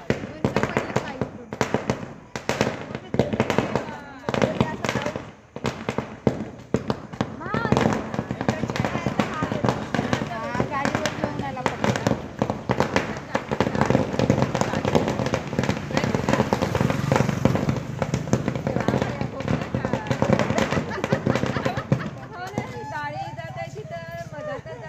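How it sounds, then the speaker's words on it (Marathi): Firecrackers bursting outdoors during Navratri celebrations, a long run of sharp cracks and pops in rapid irregular bursts, with voices and festive noise underneath throughout. "फटाके उठवतो म्हणते."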